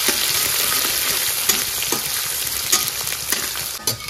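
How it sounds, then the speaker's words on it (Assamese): Finely chopped onions fry in hot oil in a pan, a loud continuous sizzle with light stirring taps close by and no voices. "সৰু সৰুকৈ পিঁয়াজ কাটি লৈছিলোঁ এটা একদম ধুনীয়াকৈ পিঁয়াজখিনি দি দিলোঁ সেইখিনি ভাজি ল'লোঁ"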